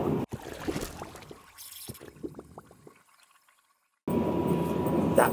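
Drink is poured from a flask into a paper cup, giving a soft splashing trickle that fades into silence before a louder burst of noise, with no talking.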